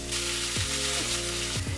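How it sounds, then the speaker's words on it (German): Sliced bitter gourd fries with a little pepper in a hot pan, giving a loud, steady, hissing sizzle that fills the whole moment, with a couple of quick scraping stirs and no speech. "Jetzt kommt die Bittergurke in die Pfanne und wird mit ein wenig Pfeffer gebraten."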